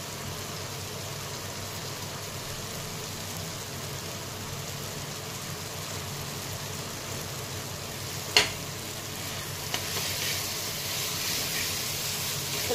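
Tomato chutney sizzles gently in a pan, a steady soft frying hiss with a brief sharp clink of a utensil partway through and slightly brighter sizzling toward the end.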